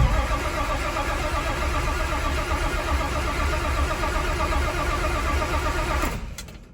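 A turbocharged slant six engine with straight-pipe exhaust cranks steadily as it tries to start, making a loud continuous churning that runs for about six seconds, then cuts off.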